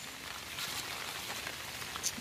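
Heavy rain pours onto a farm field in a dense, continuous hiss of drops, loud and steady, with no one speaking.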